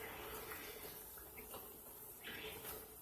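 Water runs into a pot of cooking chicken to make gravy for rice, a faint, steady trickling and splashing close by with no one speaking.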